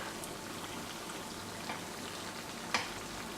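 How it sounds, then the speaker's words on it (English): Cinnamon doughnuts fry in hot oil with a faint, steady bubbling sizzle and scattered soft pops, including one sharper crackle near the end. "And they start to bubble on the other side."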